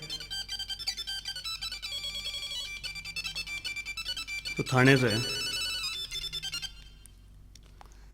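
A telephone rings in repeated electronic bursts, loud and near, in a domestic scene, with people talking over it before the ringing cuts off.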